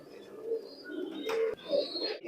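Teddy pigeons imported from Oman give soft, low coos in a few short bursts, close by and fairly faint, with no talking.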